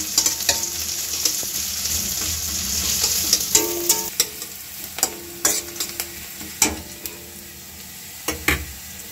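Chopped onion with garlic paste frying in a pan, a steady sizzle punctuated by repeated sharp scrapes and knocks of a spatula stirring, close and loud, with no talking.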